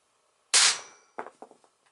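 A party popper pen gun firing a BB: one sharp metallic pop, then a few lighter clinks and rattles as the pellet bounces away, recorded close in a quiet room.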